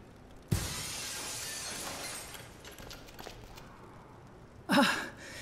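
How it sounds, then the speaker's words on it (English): Glass breaking in the Dead Synchronicity game, a sudden sharp crash at the start trailing into a long fading shimmer of debris, then a breathy sigh-like vocal sound near the end. "let's cross our fingers that the seat cover absorbs the noise of the breaking glass"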